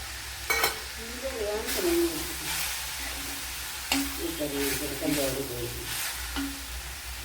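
A large tomato goes into a pan of frying cauliflower, giving a steady sizzle with several sharp bursts of stirring and scraping, while someone talks over the cooking.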